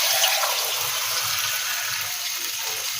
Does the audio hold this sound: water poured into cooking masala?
yes